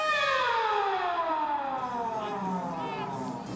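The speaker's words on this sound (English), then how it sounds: "The siren has sounded." A long full-time siren wails at a rugby league U20s match between the Dragons and the Knights, a loud sustained tone that slowly slides downward in pitch over a faint crowd murmur.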